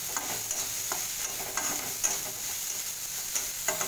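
Vegetables for idli manchurian frying in a pan, giving a steady close sizzle with occasional light spoon scrapes and clicks, and no voices.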